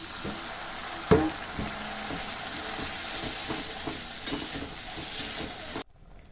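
Water poured into a spice paste frying in a pan for a Bengali cauliflower and rui fish dish: a steady bright sizzle with a sharp burst at the pour, some stirring scrapes, then an abrupt stop.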